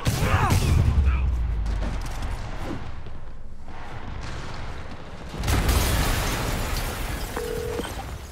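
A large explosion in the Spider-Man Remastered video game, a deep booming blast with crackling debris that rumbles on loudly, then a second heavy surge of roaring noise after a brief lull.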